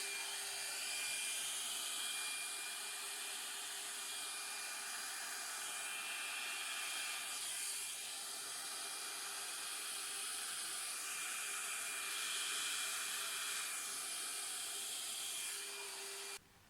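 Air is blown across an acrylic Dutch pour on a hexagon canvas to clear dust, making a steady, close, continuous hiss that runs unbroken and then stops abruptly.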